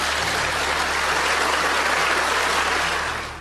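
Members of Ethiopia's House of Peoples' Representatives give sustained applause for the Prime Minister in the parliamentary chamber, a dense, loud, even roar of many hands clapping together that fades slightly at the end.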